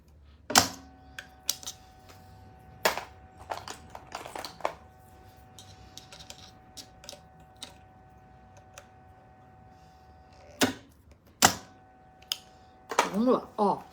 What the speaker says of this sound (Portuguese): Vou colocar meu pezinho de zíper aqui.